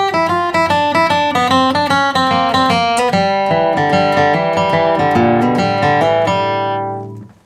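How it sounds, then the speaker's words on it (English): Guitar playing a short country bluegrass lick: a quick, bright run of picked notes at close range, finishing on a ringing chord that fades out, with no voices. "One of the shorter guitar licks that we'll be working with today sounds something like this right here."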